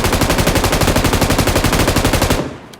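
Gunfire in PUBG on the Metro map comes as one loud close burst of rapid, evenly spaced automatic shots lasting a couple of seconds and then cutting off abruptly, with no talking.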